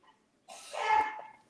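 A single sneeze from a person at a watch party for the Spain vs Argentina World Cup match, fairly faint and short, with only quiet breath around it.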